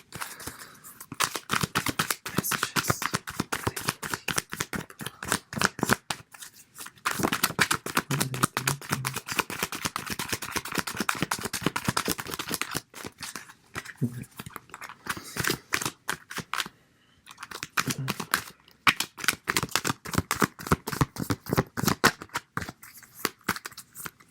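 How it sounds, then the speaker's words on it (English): Tarot cards being shuffled over and over, a dense run of quick riffling clicks and flutters with short pauses between bursts, close and fairly steady. "I hope you're enjoying the sounds of the shuffling."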